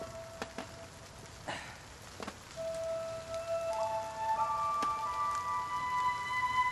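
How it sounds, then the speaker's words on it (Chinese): Rain falling steadily outdoors in a quiet scene, a soft continuous patter with scattered drips and knocks, growing slightly fuller over several seconds. "陪我坐下听会儿雨。"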